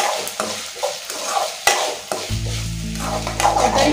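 Onions and tomatoes sauté with salt in a pan for egg noodles, a spoon scraping and stirring in repeated strokes over soft sizzling, with a steady low hum joining partway through.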